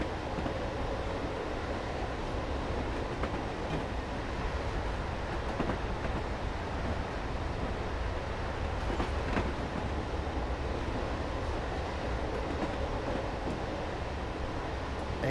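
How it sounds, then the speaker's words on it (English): Train rolling past on the Woodhead Route in Train Sim Classic, a steady continuous rumble with faint clickety-clack of wheels over rail joints, sustained and even throughout with no voices. "Ambulance trains coming through."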